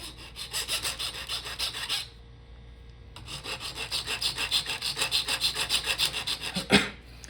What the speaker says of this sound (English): I like using a hand file. I feel it gives me a little more control.